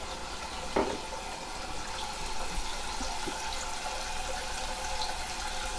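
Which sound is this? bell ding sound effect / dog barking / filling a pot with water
filling a pot with water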